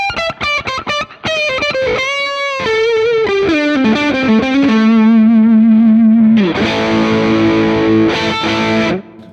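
Heavily distorted electric guitar with high-gain overdrive, playing sustained notes and a descending bend, then a thick buzzing chord with shimmering modulation, loud and alone.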